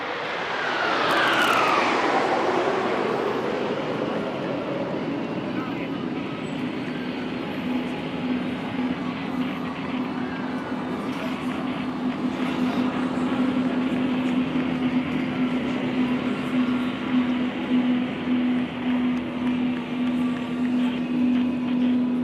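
Indian Air Force Suryakiran aerobatic team jets dive past over Marina Beach, Chennai, with a loud roar that sweeps downward in pitch as they approach, then settles into a sustained engine drone and whine.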